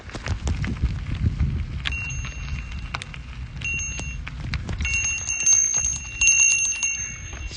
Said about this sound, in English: I've got a bell on my bike.